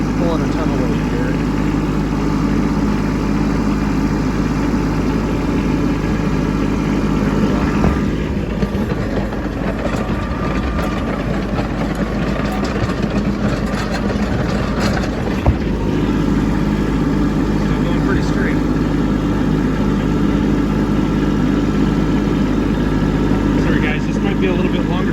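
A Kubota B2601 compact tractor engine runs in deep snow during a big snowstorm, giving a loud, continuous low drone heard close up throughout.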